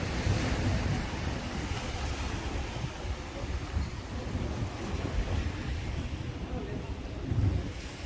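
Steady wash of sea waves and surf at Puerto del Carmen, Lanzarote, heard from a seaside restaurant, with wind buffeting the microphone throughout and rising swells near the end.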